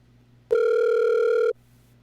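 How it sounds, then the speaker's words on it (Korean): A single steady electronic telephone tone sounds for about one second, loud and close, then stops, leaving a faint hum. "최 목사님을 전화로 연결해 보도록 하겠습니다"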